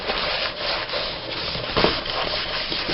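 Hands rub and smooth glued magazine paper onto a page of a Victorian-style glue book, a close, continuous dry brushing friction with slight swells in loudness.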